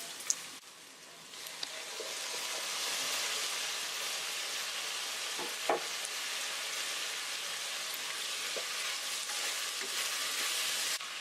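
Tomatoes going into sautéed onions in a pan while making Pongal kuzhambu, a steady broadband frying hiss with a few faint clicks from the pan, no voices.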